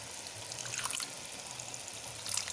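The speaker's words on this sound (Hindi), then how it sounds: "थोड़ा सा मैं इसमें पानी ऐड करूँगी" Water pours softly into a pan of fish curry, making a faint, continuous trickle with light splashing and a slight surge near the end.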